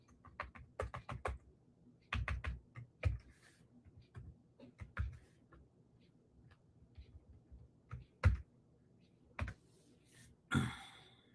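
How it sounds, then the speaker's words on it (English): Fingers type on a computer keyboard in short irregular bursts of clicks and taps, quiet and nearby, separated by pauses, with no talking. "Actually, I'll type that in the comments."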